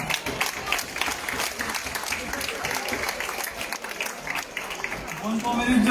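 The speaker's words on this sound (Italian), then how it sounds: "Accogliamolo con un applauso." Crowd applause at a national peace march event outdoors in a southern Italian town, a continuous patter of clapping at moderate distance that swells toward the end, with some voices underneath.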